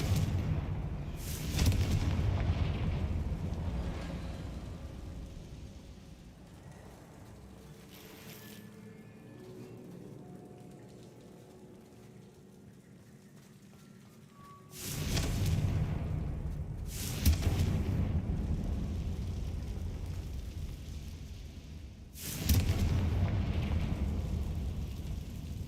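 Fiery spell blasts from Hogwarts Legacy burst out in three loud, rumbling booms spaced several seconds apart, each fading into a quieter stretch with soft game ambience between them.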